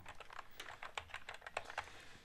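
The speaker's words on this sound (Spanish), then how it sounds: "Yo juego con el teclado y tú con el joystick." Keys on a ZX Spectrum computer keyboard are tapped during a game in a quick, uneven run of light clicks, close and fairly quiet with no talking.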